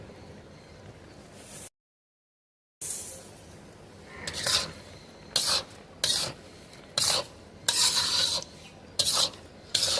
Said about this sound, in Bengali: চিনি, গাজর, দুধটাকে ভালো করে মিশিয়ে নেব।